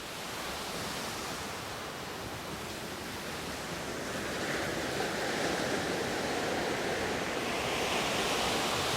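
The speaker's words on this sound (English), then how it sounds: "The lashing waves on the black rocks remind the courageous maritime expeditions." Waves lashing on black rocks at Kappad Beach on the Malabar coast, a continuous broad roar of surf that swells slightly louder toward the end, with no voices.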